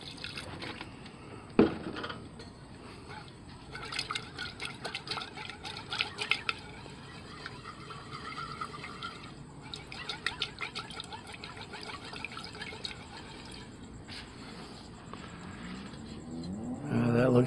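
Refined gold is rinsed with water, with intermittent trickling, splashing and dribbling of liquid at close range, interspersed with small clinks and a louder splash near the end, fairly quiet overall.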